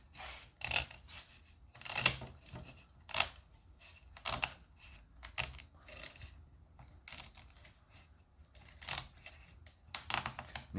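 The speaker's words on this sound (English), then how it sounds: "these aviation snips work real well because they're kind of serrated, and they'll cut this stuff without a lot of hassle" Serrated aviation snips cutting through cured fiberglass cloth and epoxy, giving a series of sharp, crisp snips and crunches at an uneven pace, close and fairly quiet.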